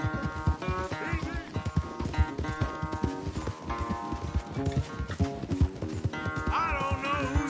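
A horse gallops in a race in the video game Red Dead Redemption 2, its rapid steady hoofbeats running throughout under game music, with a brief whinny near the end.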